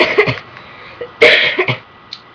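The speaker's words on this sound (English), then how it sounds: "and my cough." A few short, rough coughs and throat-clearing bursts, close and moderately loud, with quiet pauses between them.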